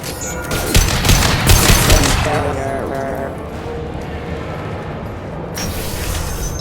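Video game gunfire in Mass Effect 2, a loud burst of rapid shots and booms early on that eases into a rumbling combat backdrop, with voices in the mix.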